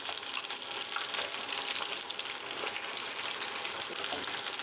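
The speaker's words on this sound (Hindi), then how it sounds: "एक हम बड़ा चम्मच ले लेंगे और इस तरीके से हल्के हाथों से हम चलाते हुए बीच बीच में फ्राई करेंगे।" Paneer snack deep-fries in hot oil while a large spoon stirs it gently, a dense, loud and continuous close bubbling sizzle with no pauses and no talk.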